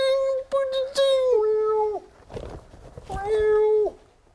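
A person imitates a cat with drawn-out meows, two long mewing calls separated by a breathy pause, loud and close.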